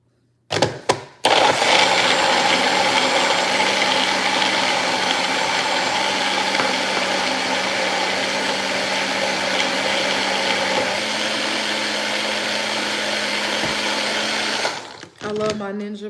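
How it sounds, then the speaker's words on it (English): A Ninja blender runs loud and steady at close range for about fourteen seconds, a continuous motor whir with a brief clatter at the start, then it cuts off abruptly. "I love my Ninja blender."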